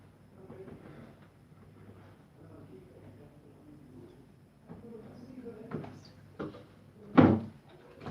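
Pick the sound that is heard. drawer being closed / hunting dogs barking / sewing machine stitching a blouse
drawer being closed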